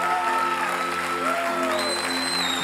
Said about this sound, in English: Why don't we give a hand clap to them?